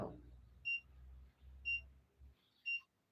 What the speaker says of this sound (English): I'm talking about the beep, beep, beep, beep, beep, beep, beep, beep, beep noise